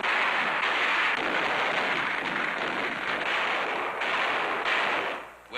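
Gunfire during the battle of Iwo Jima as Marines push up Mount Suribachi: a continuous, rough wash of distant shots and blasts with no pauses, fading slightly at the end.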